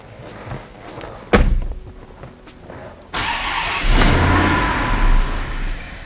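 A car door slams, then a twin-charged Magnum's engine cranks and catches, roaring up into loud revving that holds steady for a few seconds.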